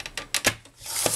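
A paper trimmer blade slides across card stock while trimming a handmade birthday card, giving a few short dry rasping strokes with brief pauses between them, close and fairly quiet.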